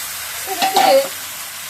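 Vegetables stir in hot oil with a constant sizzle, and a brief louder scrape of stirring rises midway through the short stretch.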